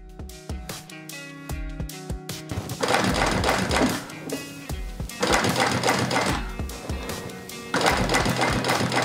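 A sewing machine stitches strips of leather for a Ferrari Daytona style seat insert, with a few short hesitant stitch bursts that build into fast, loud, continuous runs of rapid mechanical chatter, close up.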